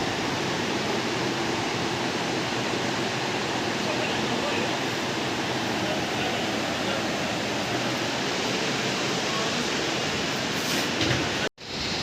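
Mountain water rushing past the back of a hotel near Kedarnath, a steady, loud broadband roar that holds unbroken for most of the stretch before cutting off abruptly near the end.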